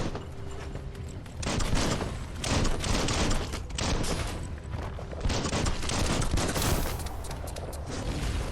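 Rapid gunfire and bursts of shooting in the video game Biomutant, loud and dense with booming impacts throughout, nearly continuous with no voices.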